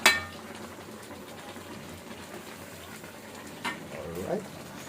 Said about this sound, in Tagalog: Kumukulo na yung ating gulay, pinakbet.